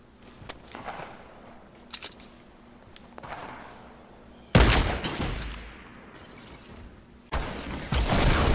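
Rapid gunfire from the video game Fortnite, a player spraying a gun: faint clicks and scattered shots first, then two loud, sustained bursts of dense automatic fire that start abruptly and keep going without pause.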